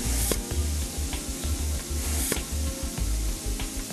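An AccuLube minimum quantity lubrication system sprays oil in rhythmic pulsed hisses and puffs, repeating close and steady over a low mechanical thump.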